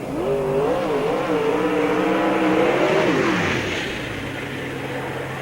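A race car roars past at speed on the front straightaway at Spoon River Speedway, sounding rough, its engine note holding high and then dropping sharply as it moves away.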